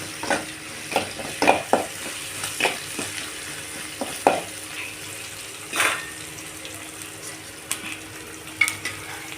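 Chickpeas for sundal being sautéed with salt in a pan, with a light sizzle under repeated scraping and stirring clicks from a utensil, close by and moderately loud, with no talking.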